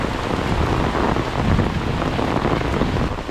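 Heavy rain pours down during a thunderstorm, a loud, dense, continuous hiss of drops hitting the ground with gusty wind noise on the microphone.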